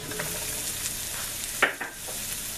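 Stuffed pepper filling with garlic, salt, black pepper and fresh basil cooking in a pan, giving a steady soft sizzle with a couple of brief stirring scrapes near the end.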